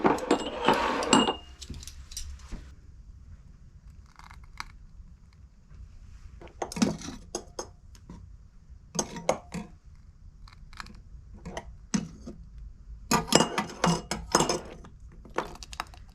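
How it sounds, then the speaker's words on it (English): Metal lids being set and screwed onto glass jam jars, a series of close clinks and scraping clatter in uneven bursts with quiet pauses between them. "We're going to put the jam in all the jars. And then we'll put the lids on"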